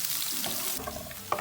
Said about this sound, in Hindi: आधी चमची धनिया, सूखा धनिया, सब्ज प्याज। इसे 1 मिनट तक भून लेना।